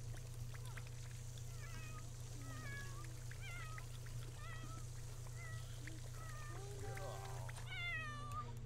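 Several cats meow in short rising calls over a steady low hum, with faint splashing water in a home setting; the calls come in a loose, repeated run, moderately close.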